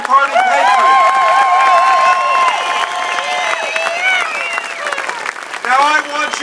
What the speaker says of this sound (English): Can we have a round of applause for Jenny Beth Martin on the hard work at Tea Party Patriot?